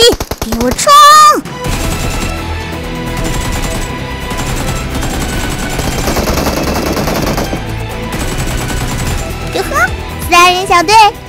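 Gunfire in the mobile battle royale Game for Peace (PUBG Mobile), rapid automatic bursts and single shots rattling loudly amid game effects, with a voice talking over the start and end.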